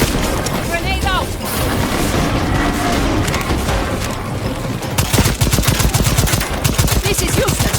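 Gunfire and grenade blasts in the video game Second Extinction, with continuous loud shooting, a heavy boom and then rapid bursts of machine-gun fire toward the end, under voices talking.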